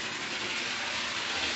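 A Hornby R333 model train pulling GWR passenger coaches and a guard's van runs steadily, giving a dense, even rushing rumble that holds at one level without a break.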